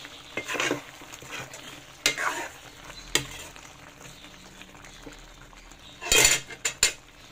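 A utensil scraping and clattering in a cooking pot as Bicol-style igado is stirred, with a soft sizzle underneath; irregular metallic knocks and scrapes, near and fairly loud, with a louder flurry toward the end.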